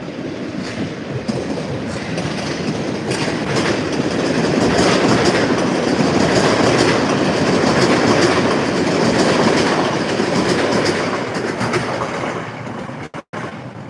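A train rolls through Forest Hills station with steady rumbling and clickety-clack wheel noise that holds loud and close for the whole stretch, with no voices over it.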